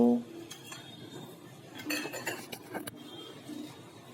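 A spoon mixes chickpeas, moong and moth beans with spices in a bowl, producing soft scraping and several clinks against the dish, closer and busier in the middle of the stretch.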